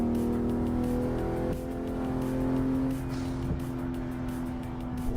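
Simulated race car engine from Assetto Corsa on PC, a steady droning tone with a slight shift in pitch partway through, heard alone and at moderate level for about five seconds.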